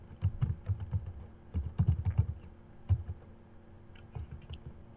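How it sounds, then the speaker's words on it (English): Close keystrokes on a computer keyboard as a domain name is typed, irregular clusters of soft clicks and taps with short pauses, fairly quiet and with no talking. "once you type the domain name"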